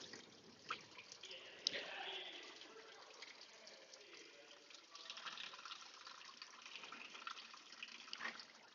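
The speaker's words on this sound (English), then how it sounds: "Running water." Warm, yellowish water running and trickling steadily from a Dodge vehicle during a water pump replacement, splashing and draining with faint drips, fairly quiet and continuous with no speech.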